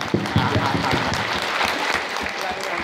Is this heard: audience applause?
yes